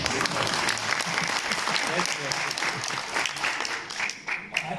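An audience at an interview event in Dubai's Museum of the Future breaks into sustained, dense applause, loud and continuous throughout with the crowd clapping close together.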